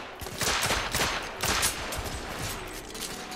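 Rapid gunfire rattles in the video game The Order, with bursts of shots crackling one after another in a dense, loud volley.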